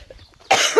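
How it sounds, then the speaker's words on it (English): A single short, harsh cough from a hiker on the Appalachian Trail bursts out after a moment of near silence, close to the microphone. "I've still been having these coughing attacks"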